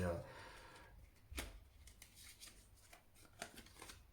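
Soft papery rustle of a tarot card being drawn from the deck, with faint light flicks and slides under a person's voice.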